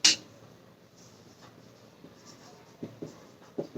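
Writing on a board during a stereochemistry lesson, a few short, close scratchy strokes spaced out over a few seconds with quiet pauses between them.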